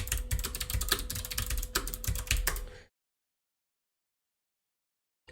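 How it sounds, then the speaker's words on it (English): Rapid clicking of a password being typed on a computer keyboard, a quick irregular run of keystrokes close by for a few seconds, then silence. "need to enter my password."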